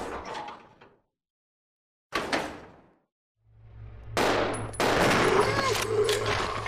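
Gunfire in the survival-horror game Resident Evil 0: two sharp shots ring out and decay, followed by a low rumble that builds into a loud, sustained barrage of rapid blasts.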